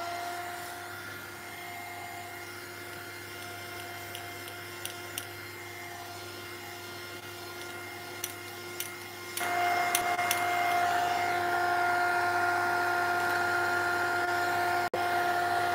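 A heat tool drying layered mixed-media paint runs as a steady whining drone with a tonal hum, growing louder partway through, with a few faint clicks and taps over it.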